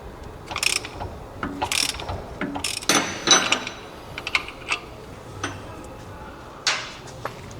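Ratchet loosening a 21mm nut on the differential of a 2014 BMW 328i F30, heard as close, sharp bursts of pawl clicking in short irregular runs with pauses and light metallic handling.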